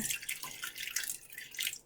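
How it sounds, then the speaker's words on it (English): Water poured into the bottom of an Instant Pot with a trivet inside, a faint, bright trickling splash that comes and goes in short pulses over a couple of seconds. "So first what I want to do is put some water in the bottom."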